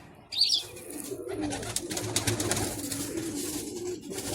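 Pigeons coo softly in low, rolling murmurs beneath a steady outdoor hiss, after a brief sharp chirp near the start.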